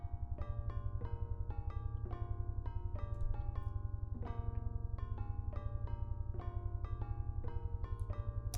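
Several Groove sample players in a Max/MSP multichannel soundscape run at different playback rates, forming a dense, steady layered texture with a constant low drone and overlapping repeating tonal hits, with no talking.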